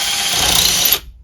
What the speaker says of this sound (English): And again, little drill.